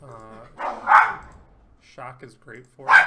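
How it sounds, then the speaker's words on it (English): A dog barks in the background as a few short, separate bursts during a Magic: The Gathering M19 sealed league match, partly overlapping a nearby voice. "that's my dog barking in the background"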